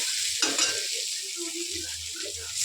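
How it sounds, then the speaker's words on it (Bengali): Cold water is added to potatoes frying in a pan for aloo dum, and an intense hiss and sizzle fill the clip. Faint scrapes and clinks of a utensil sound against the pan, and no one talks. "আমি এখন জলটাকে অ্যাড করে দিচ্ছি এই দেখো"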